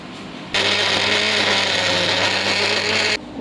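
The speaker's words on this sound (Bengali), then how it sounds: "আমি এই যে মিক্সির মধ্যে এটাকে ভরে নিয়েছি। ভরে এইবারে এটাকে আমি পেস্ট করে নেব।" An electric mixer grinder blending cooked kharkol leaves into a paste, a steady loud whirring drone that starts abruptly, runs about two and a half seconds, then cuts off.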